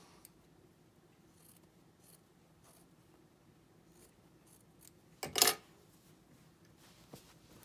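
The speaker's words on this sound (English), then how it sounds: "then I'll just trim off the excess tails" Scissors snip off excess binding thread tails on a quilted tea cozy, a single short, crisp cut standing out near the end of a quiet stretch with faint rustling handling sounds.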